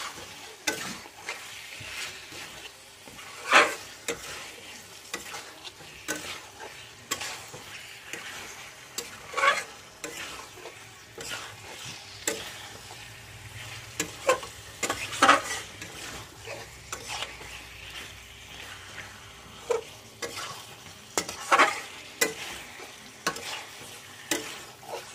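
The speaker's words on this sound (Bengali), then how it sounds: "দেওয়ার পর এরপর এটাকে ভালো করে কষে নেব।" Salted meat stir-fried in a pan for a meat curry, a steady sizzle broken by repeated scraping and clinking strokes of a spoon against the metal, close and moderately loud, with no voices.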